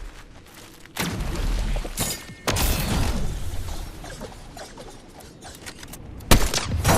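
Bursts of video game gunfire in Fortnite, loud broadband volleys with sharp onsets around one, two and a half, and six and a half seconds, separated by busier mechanical clatter and rattling effects with no talking.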